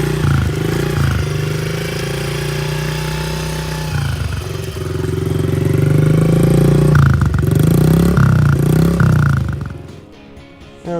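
A small Honda CRF50 dirt bike engine, due for its first oil change, runs close by with a steady idle, revved several times in short throttle blips before it shuts off near the end.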